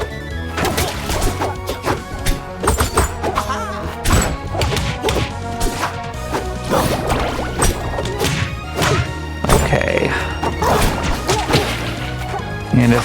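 Rivals of Aether combat between Ranno and Orcane, with a steady stream of sharp hit and smash impacts over busy game music, loud and continuous through the whole stretch.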